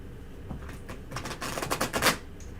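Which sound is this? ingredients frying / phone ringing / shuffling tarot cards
shuffling tarot cards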